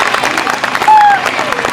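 Audience applause at a school annual function: dense, continuous clapping from a seated crowd, with a brief steady tone ringing over it near the middle.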